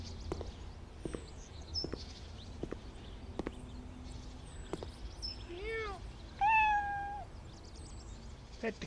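A cat meows a few times in the Cafe Owner Simulator video game, rising and falling cries in the middle of the clip, over a soft background with scattered clicks and footsteps.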